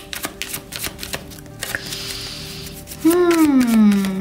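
Tarot cards shuffled by hand, producing quick, irregular clicks and taps over about three seconds, then a louder, sustained sliding tone takes over near the end.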